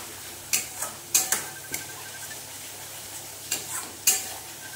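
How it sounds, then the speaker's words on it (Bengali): Chicken masala with yogurt being stir-fried, with a handful of sharp spoon scrapes and taps against the pan over a faint sizzle, close and sparse, with no talking. "এবার দইটা দিয়েও ভালো মতো মানে কষে নেব বন্ধুরা"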